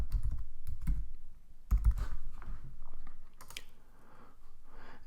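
Quick bursts of keystrokes on a computer keyboard while a search is typed, close and fairly loud, in short irregular runs with brief pauses between them, no talking.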